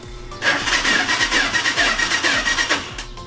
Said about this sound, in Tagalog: Paandar natin. Medyo hard starting pa siya